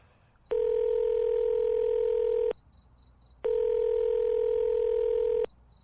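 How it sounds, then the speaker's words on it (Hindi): A telephone line gives two long, steady electronic tones separated by a short pause as an outgoing call is placed. The tones are clear and close, with no voices. "वो आस्था को कॉल करता है।"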